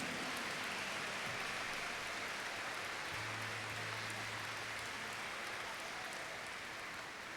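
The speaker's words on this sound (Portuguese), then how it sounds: "Pode aplaudir o Senhor" Church congregation applauding during a Sunday service, a dense, even roar of clapping like heavy rain, continuous and fairly distant, with a faint low tone underneath.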